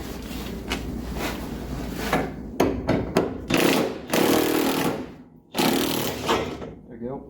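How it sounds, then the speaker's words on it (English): Impact wrench working on the suspension of a 1973 Dodge Dart, loud bursts of hammering and rattling in several short runs with pauses between, close by. "let's hit her with the impact"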